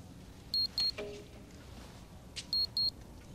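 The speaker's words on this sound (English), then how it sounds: "It's somebody's watch." Two pairs of short, high electronic beeps, like a wristwatch alarm, sounding fairly near against a quiet background with a faint click between them.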